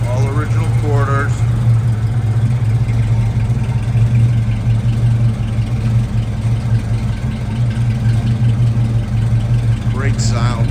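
A 1968 Ford Mustang engine idles nearby with a steady, low, continuous rumble throughout, while a voice speaks briefly near the start and end.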